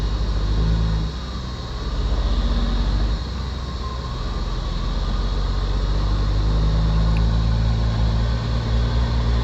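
A loaded logging truck's diesel engine runs with a steady, loud, close rumble that swells slightly and holds for the whole stretch, with no voices over it.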